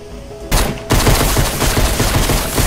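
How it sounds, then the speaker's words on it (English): Rapid gunfire from a pistol in the Fortnite video game, a loud dense burst of repeated shots that starts abruptly, pauses briefly, then continues as a steady stream of shots. "I like how I'm still shooting with the pistol."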